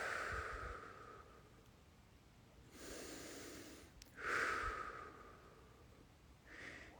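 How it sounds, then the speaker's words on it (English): Deep breathing from a person on a jogging livestream: a long forceful exhale, then two more strong breaths in and out a few seconds apart, close and breathy with no talking. "I'm gonna breathe."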